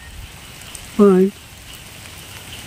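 Heavy monsoon rain falls outdoors over green countryside, a soft steady hiss that runs throughout, with one short spoken word breaking in near the middle.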